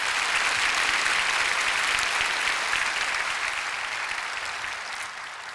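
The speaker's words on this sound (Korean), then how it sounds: "우리 하나님께 영광의 박수 올려드리겠습니다." A church congregation at a Daniel prayer gathering applauds to glorify God, a dense, steady wash of many hands clapping that holds loud and even, then tapers slightly toward the end.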